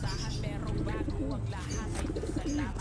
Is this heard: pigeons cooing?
yes